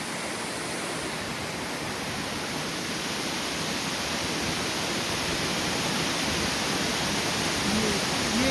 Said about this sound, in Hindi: रास्ते में ये खूबसूरत झरना बहुत ऊंचाई से आ रहा है